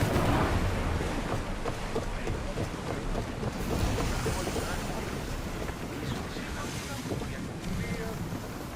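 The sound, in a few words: sailing ship under way in Assassin's Creed Odyssey video game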